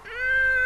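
A cat gives one short, clear, close meow with a rising, drawn-out tone, heard alone in a quiet room.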